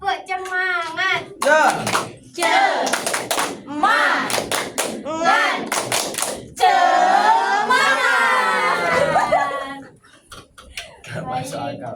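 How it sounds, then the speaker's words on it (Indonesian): A classroom of students doing a rhythmic spirit clap in unison, sharp patterned claps in quick bursts, mixed with loud voices chanting and talking between and over them. "tepuk semangat"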